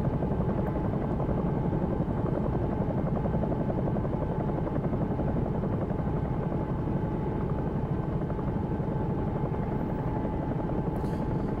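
A simulated Bell 222 air ambulance helicopter in the X-Plane 11 flight simulator runs with a steady, close, loud rotor and turbine drone and an even pulsing beat that continues unbroken, with no talking.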